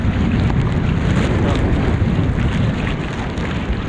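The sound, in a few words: strong wind over rough sea in bad weather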